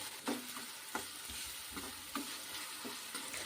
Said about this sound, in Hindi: प्याज को हल्का भुनेंगे, बहुत ज़्यादा नहीं भुनेंगे इसको